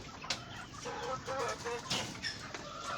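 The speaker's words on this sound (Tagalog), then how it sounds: "Yung mga manok niya yan, oh. Marami dyan, nakakulong yung iba." Native chickens cluck and call in a busy outdoor setting, several birds, some caged, overlapping at moderate distance with steady background noise.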